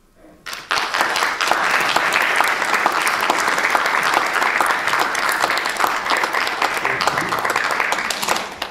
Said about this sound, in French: Et on les applaudit encore, s'il vous plaît.